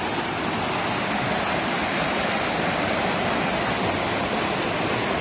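The Farino waterfall roars as a dense, steady rush of falling water heard up close, loud and unbroken for the whole stretch, with no voices over it.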